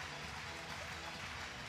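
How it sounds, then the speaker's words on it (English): Crowd at an FEI Driving World Cup horse-driving final in Bordeaux cheering and applauding, a dense wash of clapping and voices in a large arena, brief and continuous. "Everyone is cheering."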